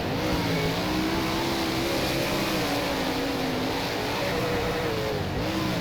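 A 410 sprint car engine in the rFactor racing game roars steadily at high revs on a dirt oval at Charlotte, a continuous loud drone with wavering pitch that ends in a brief stutter against the rev limiter.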